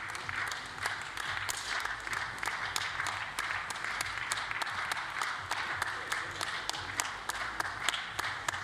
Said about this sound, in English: Crowd start to clap along and get involved